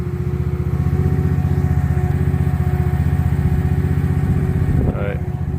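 A farm engine, started by pouring gas down the carburetor, runs at a steady loud idle with a regular chugging rhythm, briefly shifting near the end, while an auger and gate mechanism work nearby.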